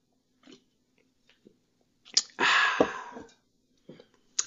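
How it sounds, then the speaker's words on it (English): Whiskey being sipped at close range: a short slurp and swallow with mouth clicks and breaths, a few quiet smacks before and after, no talking. "if you hear me pause, that means I'm sipping"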